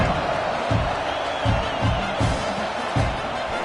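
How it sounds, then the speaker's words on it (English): A stadium crowd at a football game buzzes with a loud, continuous murmur, with rhythmic thumps or claps rising in repeated bursts. "this crowd is buzzing after that last score"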